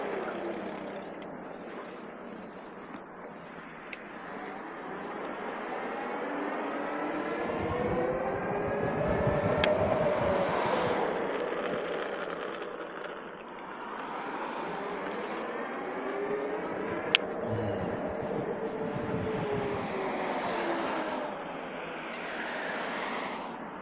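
An electric skateboard motor at full throttle gives a rising and falling electric whine that sweeps up in pitch, eases off, then climbs again, steady and fairly loud with no voices.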